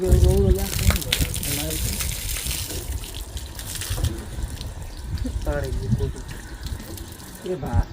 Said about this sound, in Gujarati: પાણી અહીંથી પડી જાય